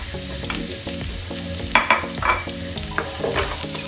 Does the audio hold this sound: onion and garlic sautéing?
yes